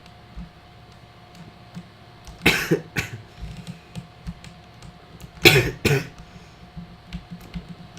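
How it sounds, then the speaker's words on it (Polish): A smoker's cough breaks out in two harsh, rasping bursts about three seconds apart, each lasting under a second, over a quiet background with faint ticking and no talk. "Co za dziki kaszel"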